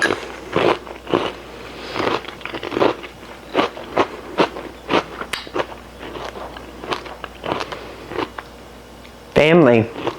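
Homemade sourdough cereal with no additives being crunched and chewed in milk, close and loud, a steady series of crisp bites at regular intervals, ending in a brief louder scrape.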